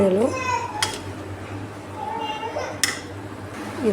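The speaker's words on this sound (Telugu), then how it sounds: "సాల్ట్ని యాడ్ చేసుకొని మంచిగా కలిపేసుకుంటున్నాను." A spoon scrapes and clinks in a pan as salt is stirred into a tomato egg curry cooking in oil, with a few sharp metallic taps, while a voice rises faintly in the background.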